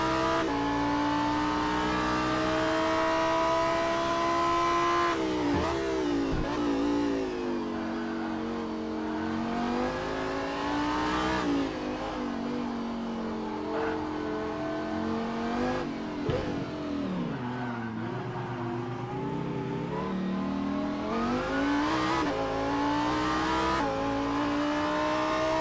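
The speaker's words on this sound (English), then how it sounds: "Here's the view from JT Tammy's cockpit in the number 202 Lamborghini STC" Onboard a Lamborghini Super Trofeo race car at a Long Beach street circuit, the engine screams loud and close, rising through the gears and dropping sharply under braking, over and over with no talking.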